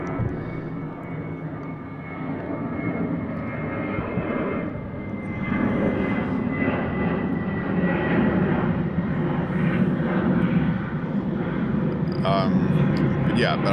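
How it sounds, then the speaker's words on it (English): An airplane flies overhead with a steady, broad engine rumble that fills the whole stretch and swells slightly midway, while people keep talking underneath it. "Sorry, well, another plane."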